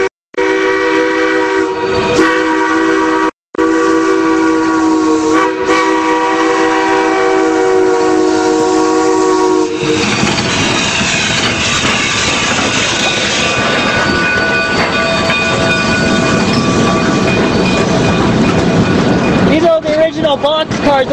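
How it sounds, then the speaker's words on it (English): Yellow-painted Denver & Rio Grande boxcars of the Durango and Silverton railroad rolling past with a loud sustained horn, giving way to heavy rumbling wheel and car noise close by; people talk over it. "Boxcars of the Denver Rio Grande"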